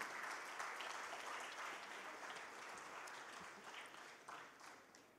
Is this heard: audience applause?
yes